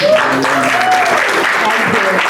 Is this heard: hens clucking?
no